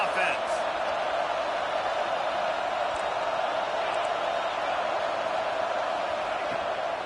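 Steady stadium crowd roar from a College Football 26 video game, a constant broad wash of noise that holds level throughout with no breaks and no clear cheers rising out of it.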